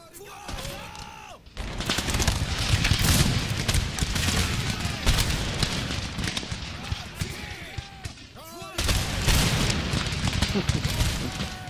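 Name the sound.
musket and cannon volleys firing in Empire: Total War video game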